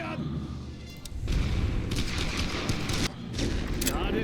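Booming artillery barrage mixed with rifle fire in The Great War: Western Front, heavy thuds and a rolling rumble of shots that swell loud after a quieter opening, with faint voices in the background.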